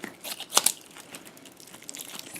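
A crunchy, squishy jelly pouch of hard rubbery material is squeezed close by, giving soft crinkling and crackling with a sharper crunch near the start, then quieter rustles.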